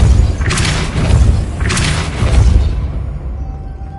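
Spell effects in the Hogwarts Legacy video game, two bursts of a forceful whooshing blast around half a second and two seconds, each with a booming low thud, fading out into quiet game ambience.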